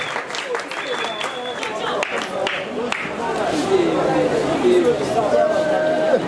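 Scattered clapping rises from a crowd at an indoor children's judo event amid chatter and hubbub, growing somewhat louder toward the end.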